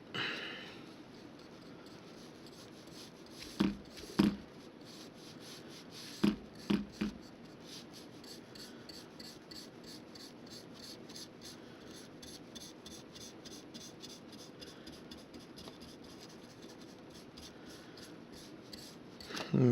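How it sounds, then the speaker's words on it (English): Wide dispersion paint brush slopping paint onto particle board, soft repeated scrubbing strokes with a few sharper taps, fairly quiet and close, no speech. "Let's go ahead and slop on some paint."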